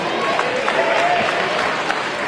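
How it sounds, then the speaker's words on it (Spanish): Crowd at a boxing match applauding a fighter's dodge, a steady wash of clapping and crowd noise filling the whole stretch at moderate loudness, with voices mixed in. "La gente aplaude el esquive de Acosta."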